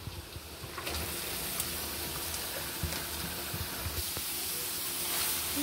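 Vegetables dropped into a hot pan after fried egg for vegetable noodles, giving a steady close sizzle and hiss with faint stirring scrapes throughout, no talking.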